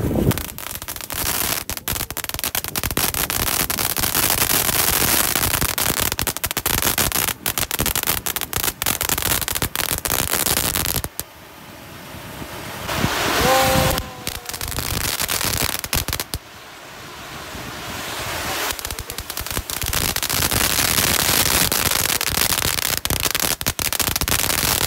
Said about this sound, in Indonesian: menyalakan mercon Conic dengan baling-baling kipas